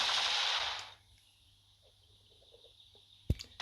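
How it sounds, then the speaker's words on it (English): A short, loud burst of machine gun fire in The Walking Dead: No Man's Land video game, lasting under a second and followed by near silence with a faint click at the end. "don't want to be massively close, because that Clyde chap is going to unleash with his machine gun, as he did there."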